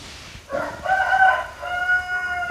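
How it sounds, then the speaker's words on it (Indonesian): A rooster crows before dawn, a single drawn-out call with a clear rising start and wavering tail, fairly close and alone. "jam segini udah ada suara ayam"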